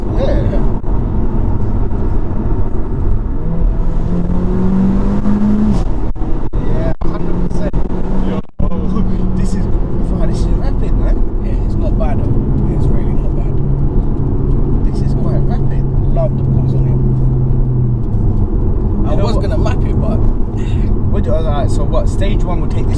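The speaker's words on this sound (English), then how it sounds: "It sounds like you got a full exhaust system on this." Mercedes CLA 45 AMG with a full exhaust system, its engine droning steadily throughout with rising and falling revs, close and loud, while people talk over it.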